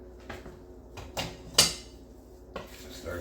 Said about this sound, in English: stir this nicely